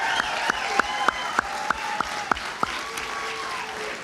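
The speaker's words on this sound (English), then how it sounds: "A round of applause for these education professionals" Several distinct claps ring out for education professionals at an awards ceremony, spaced at an even beat and fading away toward the end, with faint voices in the background.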